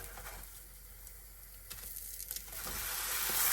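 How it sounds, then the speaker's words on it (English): Butter sizzling in a frying pan in a four-wheel truck camper: a quiet, steady crackling hiss with faint pops, growing slightly louder toward the end. "You hear that sizzle? Perfect sizzle."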